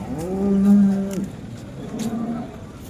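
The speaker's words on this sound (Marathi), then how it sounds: "समोर एक शेतकऱ्याची गाय बघा." A farmer's cow at a cattle market gives one low, drawn-out moo close by, followed by a fainter second low call amid outdoor background noise.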